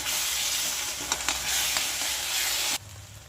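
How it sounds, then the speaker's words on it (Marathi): Spice mixture of red chilli powder, turmeric, garam masala and coriander powder stirred in a pan for masala vaangi (stuffed aubergine), giving a steady close scraping sizzle with a few spatula knocks that stops abruptly near the end. "आता आपण हे छान मिक्स करून घेऊया."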